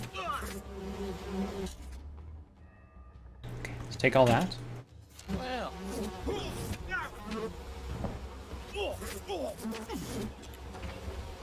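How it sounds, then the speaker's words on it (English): Swarming bees buzz in the video game We Happy Few, a steady insect drone running beneath excited talk and game noises, with a loud burst midway. "God, so many bees."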